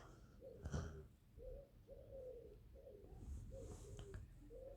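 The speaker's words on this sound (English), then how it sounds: "That's just the birds in my neighborhood." Neighborhood birds call in a quiet outdoor setting, a dove-like cooing repeating in soft rhythmic phrases at a moderate distance, with faint other chirps and light background noise.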